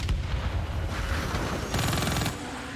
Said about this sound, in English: We're taking heavy fire over here.